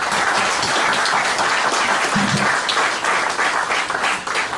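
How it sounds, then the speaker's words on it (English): Audience applauding at a political debate held at the Arizona Capitol, a steady, dense wash of clapping from a crowd that continues at full level throughout. "Let's give these guys a round of applause."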